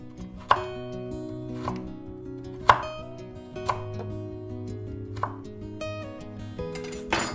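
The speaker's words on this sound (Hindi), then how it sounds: "फिर इनको लाइन में काटेंगे, स्ट्रिप्स में" A knife chopping vegetables into strips for veg fried rice, sharp close thuds on a cutting board arriving in an irregular sequence over a quiet background, with a faster run of cuts at the end.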